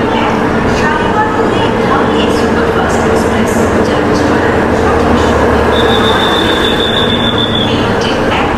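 A Shalimar–Puri Dhauli Express train pulls into a station platform, producing a steady, loud rumble and clatter of wagons with a brief high squeal of wheels near the end and voices mixed in.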